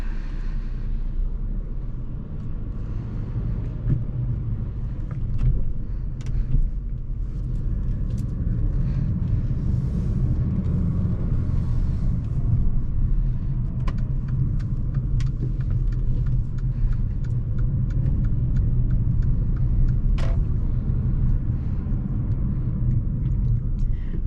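A 2018 Mercedes CLA250 4Matic on a test drive gives a steady, deep road and engine rumble from inside the cabin, continuous and even throughout, with faint occasional ticks above it.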